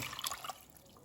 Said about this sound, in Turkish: 3 su bardağı suyumuzu ekliyoruz